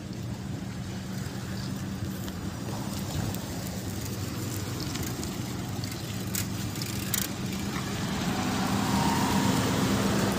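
Car engine idling and pulling in low gear as it reverses and turns during a driving lesson, a steady close rumble with hissing road texture that swells slightly toward the end, no talking.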